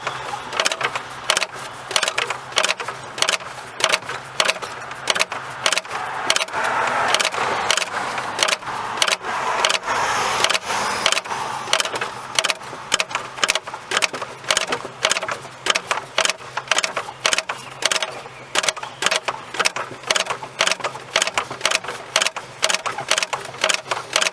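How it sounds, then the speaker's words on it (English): Removing the fan clutch from a Ford 6.0 diesel engine gives a steady, rapid run of loud mechanical clicks and rattles, close and continuous for the whole stretch. "Now we're just going to spin the fan off."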